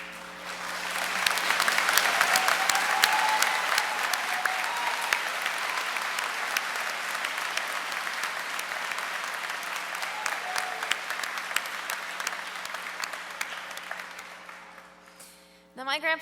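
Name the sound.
round of applause at a graduation ceremony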